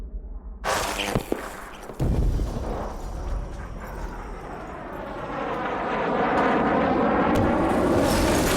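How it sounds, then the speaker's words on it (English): A plane roars past in a video game cutscene, a loud rumbling sweep that swells and grows in the final seconds, with sharp impacts early on and no talking. "I could feel that plane flying past me in my bones."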